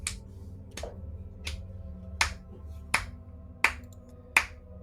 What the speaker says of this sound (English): you hear the slow clap